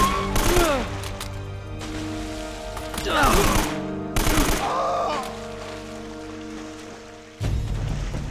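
Bursts of gunfire crack out in Uncharted: Drake's Fortune, several rapid volleys separated by pauses over a steady game music drone, with someone talking briefly between shots.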